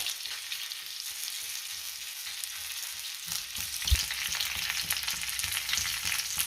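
Onion frying in a pan for a village-style mutton curry, a broad steady hiss of oil growing busier partway through as the pieces are stirred, close and without speech.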